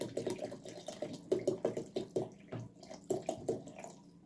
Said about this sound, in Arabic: طبعا هننزل بالميه.